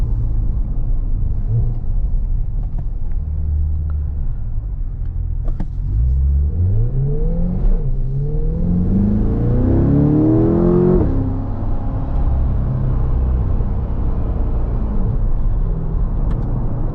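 A 2023 Chevrolet Corvette C8 Z51 sports car engine revs up loudly, its pitch sweeping upward as it accelerates, then falls back to a deep, steady rumble.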